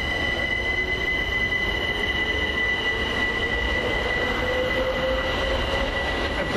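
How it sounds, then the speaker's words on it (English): A Southern Railway class 377 electric unit pulls out of West Norwood station, a loud, steady rail rumble with a constant high wheel squeal running throughout, no voices. "off with the delayed 1410 Southern Railway service from London Victoria to London Bridge"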